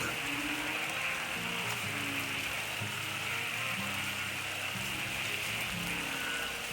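Heavy rain pours steadily over a rice field at night, a dense constant hiss close to the microphone, with low tonal calls, likely frogs, repeating underneath.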